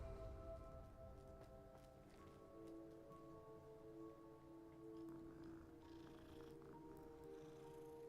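A cat purrs in the video game Hogwarts Legacy, a low continuous rumble with faint tonal hum and soft ambient patter behind it, steady and fairly quiet.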